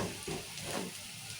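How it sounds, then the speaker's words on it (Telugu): Diced potatoes for a green-chili potato masala curry fry in oil in a pan, giving a brief, steady, fairly loud crackling sizzle with a few stirring scrapes and no voices. "ఇక ఇట్లా మంచిగా నూనెలా ఇట్లా వేగించుకోవాలి మంచిగా ఎర్రగా అయినాయి కదా"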